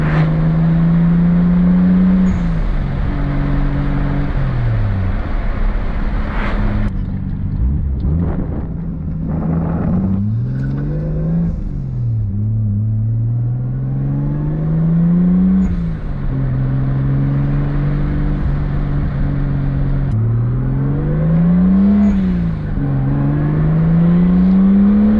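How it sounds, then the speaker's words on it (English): A car drives along a road with steady engine drone, repeatedly accelerating and easing off so the pitch climbs and drops in waves, heard from inside the cabin, loud and continuous without voices. "This car runs so good for what it is."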